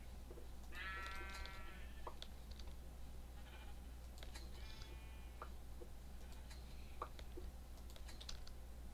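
Sheep bleat a few times in the video game Minecraft, short wavering calls over a quiet, steady hum with faint clicking like keyboard typing. No one speaks.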